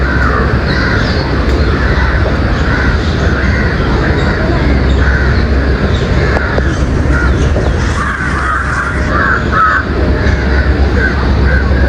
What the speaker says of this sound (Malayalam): അതിൻ്റെ അടുത്ത് കാക്ക കാര്യങ്ങളും ഒക്കെ ഉണ്ട് കേട്ടോ